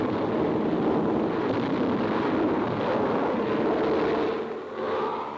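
Rumbling blasts of harmless practice chalk bombs dropped by US Army planes onto a World War II bombardier training ground, a continuous loud roar that swells and fades slightly.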